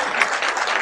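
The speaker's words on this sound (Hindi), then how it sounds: "ताली कम बजा रहे हो आप लोग" An audience at an awards ceremony applauds, a brief dense burst of many hands clapping together, steady and moderately loud with no voices over it.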